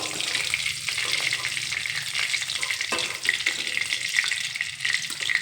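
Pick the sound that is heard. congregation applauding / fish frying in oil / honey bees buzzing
fish frying in oil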